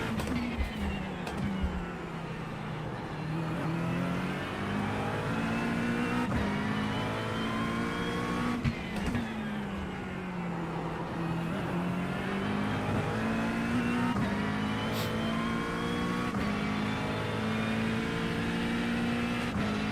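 Race cars, including an LMP2 prototype, in the iRacing video game, with a continuous engine drone whose pitch repeatedly rises through the gears and dips as cars brake and accelerate around a street circuit.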